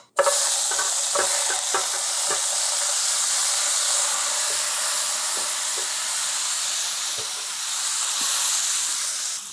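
Cabbage, carrot and meat sauté in olive oil and butter with a continuous loud sizzle and hiss. Scattered soft scraping stir clicks sit on top of the frying, and no one speaks.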